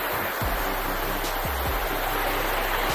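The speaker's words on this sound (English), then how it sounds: "We finally made it to one of the falls. This one's called Silver Falls." Silver Falls on the Five Waterfall Walk at Gunns Plains pours in a dense, steady roar of falling water, close and loud, with a few soft low thumps from nearby.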